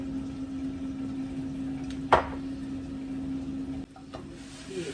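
Flatbread dough of flour and water cooking in a pan on the stovetop, a soft steady sizzle with one sharp clack and a brief rattle as the pan is shaken.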